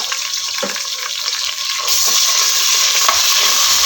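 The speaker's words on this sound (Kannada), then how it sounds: "ಶುಂಠಿ ಬೆಳ್ಳುಳ್ಳಿ ಪೇಸ್ಟನ್ನು ಹಾಕ್ಕೊಂಡು ಹಸಿ ವಾಸನೆ ಹೋಗೋರಿಗೆ ಚಂದ ಫ್ರೈ ಮಾಡ್ಕೊಳ್ಳೋಣ" Ginger garlic paste frying with green chillies and onion in a pan, a loud continuous hiss and sizzle that grows stronger partway through, with a few soft stirring knocks.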